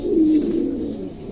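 A male pigeon coos close by near a female, a single low throaty rolling coo that swells and fades over about a second, with no talking.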